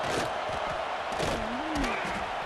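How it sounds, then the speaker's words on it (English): A football stadium crowd roaring during a red zone defensive stand, a loud, continuous wash of cheering with a voice speaking over it. "This crowd is trying to inspire this defense to make a big red zone stop."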